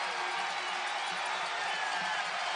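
Crowd in a college basketball arena roaring at a McNeese State versus Northwestern State game, a dense continuous wash of cheering and whoops with no break.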